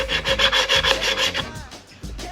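Rhythmic rasping of a Permagrit sanding block rubbing burrs off metal on a Nissan 370Z steering rack part, about nine quick close back-and-forth strokes, then a pause and a final stroke.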